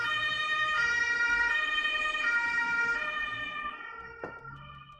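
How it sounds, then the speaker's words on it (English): An ambulance siren wails outside in a sustained rising and falling tone, heard at moderate distance and slowly fading as it passes, with faint traffic beneath. "There's an ambulance once again. Sorry for that."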